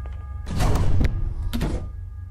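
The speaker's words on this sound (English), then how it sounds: "I think I can now close the door." A door shutting in a video game: a heavy thunk with a rattling slam, followed a moment later by a second shorter knock, close and loud against a quiet background.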